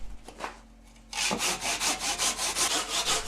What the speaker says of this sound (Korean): 끼운 나무를 다시 잘라냅니다